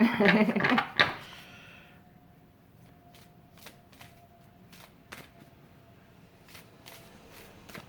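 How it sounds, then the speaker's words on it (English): An oversized tarot deck gets a quick, loud, close shuffle lasting about a second at the start. Then the room goes quiet apart from a few faint taps and clicks. "I'm probably not going to be able to shuffle this the way I want to."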